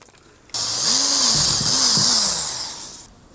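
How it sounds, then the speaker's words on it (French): A power drill bores a hole while a router pinion is being replaced, a loud high whine running steadily for about two and a half seconds with two brief dips in pitch, close up with no talk. "Je vais percer."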